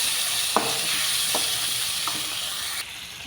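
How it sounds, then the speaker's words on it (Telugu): Chopped tomatoes sizzle steadily in a pan while being fried for a moong dal and drumstick-leaf curry, a close, continuous hiss broken by a few soft stirring knocks, with no voices. "ఇందులో పెట్టి మంచిగా వేయించుకోవాలి టమాటాలు అవన్నీ"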